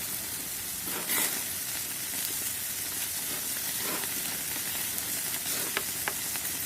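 Breakfast frying in a pan outdoors in a park, a steady broadband sizzle running throughout with a few faint clinks and scrapes of a utensil, no talking.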